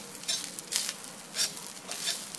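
Whole coriander seeds and spices sauté in a little oil in a pan for a village-style masala brinjal, giving a soft, close sizzle with light crackling bursts and patter.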